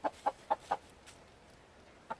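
A broody hen gives four quick, soft clucks in a row, then a single cluck after a short pause, faint and close, with no voices.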